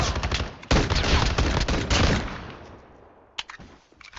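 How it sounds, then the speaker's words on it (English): Sustained automatic gunfire in a pistol-and-knife shooter video game rattles loudly and densely, fades out, then returns as a few sharper shots at the end. "Oh, I'm getting shot at."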